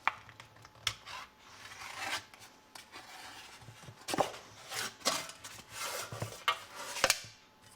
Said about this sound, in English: Let's go ahead and pull it and open it up and see what's inside and how it looks.